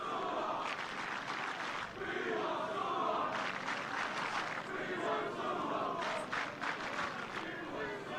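Schoolboy supporters at a New Plymouth Boys' High versus Palmerston North Boys' High First XV rugby match roar and chant in rhythmic surges, with bursts of shouting rising and falling over a steady crowd bed at a distance, commentary voices over them.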